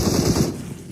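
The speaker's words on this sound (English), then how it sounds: "he will be gunned down" Rapid automatic gunfire in the battle royale game PUBG Mobile during an esports match, a loud fast burst of shots that stops abruptly near the end.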